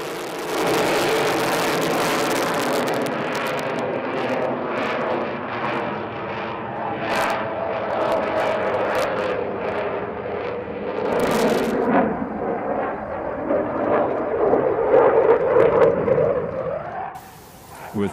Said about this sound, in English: showing off the looping he described earlier, demonstrating the power of the Rafale